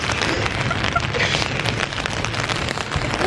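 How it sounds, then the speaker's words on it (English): Sudden rain pouring outdoors, a dense, steady hiss of drops hitting surfaces, loud and continuous throughout with no voices. "it started raining all of a sudden"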